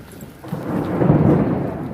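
Thunder rumbles low and swelling during a rainstorm, a rolling boom building over steady rain hiss, fairly loud and without talk.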